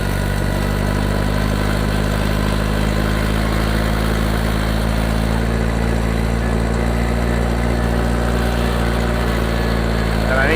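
The engine of an International Harvester 504 tractor runs steadily and loudly throughout, its governor spring pulling the throttle open so it pushes toward full speed, with no talking over the continuous drone.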